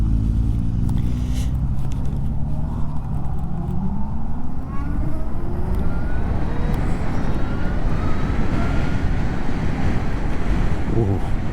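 A Zero SR/F electric motorcycle accelerates on the road, its motor whine rising steadily in pitch, buried under heavy wind rush and tire roar that stay loud throughout.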